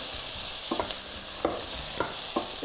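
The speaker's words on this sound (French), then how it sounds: "là, je vois que mon huile est presque prête. Donc, je vais juste mélanger des oignons." Onions stirred in hot oil in a pan, giving a continuous sizzle broken by several sharp scraping stirs at irregular intervals, close and fairly quiet.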